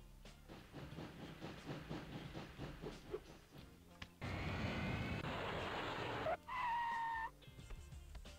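A rumbling video-game train from Sheep Dog 'n' Wolf chugs rhythmically, then a loud hissing rush of steam and a high whistle-like tone, all with a synthetic, game-like quality.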